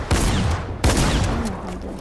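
Gunfire in the Fortnite video game: two sharp, loud bursts about three quarters of a second apart, each trailing off quickly.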